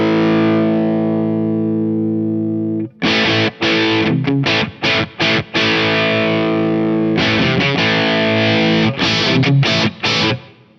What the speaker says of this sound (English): There's also the brown mode from the Katana.